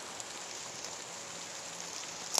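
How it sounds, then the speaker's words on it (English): Steady patter of rain falling outdoors, a soft and even hiss of drops with a faint brief rattle near the end and no voices. "I am getting a little wet from the rain"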